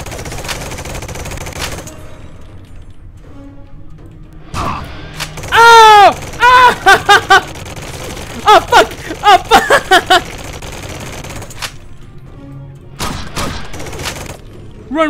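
Bursts of automatic gunfire in the post-apocalyptic pub-crawl game WASTED, loud shots in several clusters punctuated by brief screeches and game effects, with sparse background chatter.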